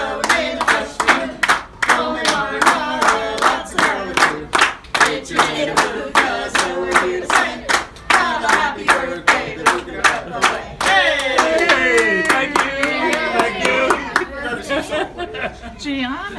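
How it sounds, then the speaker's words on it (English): An audience at a 72nd birthday celebration claps a steady, even beat for a birthday song, loud and close, with voices singing and chattering over the rhythmic claps. "if not, just give us a steady clap and we'll take care of the rest"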